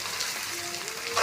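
Mutton neturu fry sizzling steadily in a pan, a dense continuous crackle and hiss that stays loud and close throughout, with no talk.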